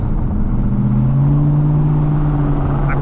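A Whipple-supercharged Ford Mustang V8 drones steadily from inside the cabin with windows cracked, its low exhaust hum, through an H-pipe, rising slightly in pitch as it accelerates.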